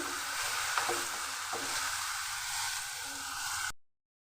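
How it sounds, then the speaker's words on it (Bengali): Turmeric and cumin powder with ginger-garlic paste frying in hot oil in a pan, a steady close sizzle with a couple of light utensil scrapes, cutting off abruptly to silence near the end. "সবগুলোকে আমি ভালো করে একটু ভেজে নিচ্ছি।"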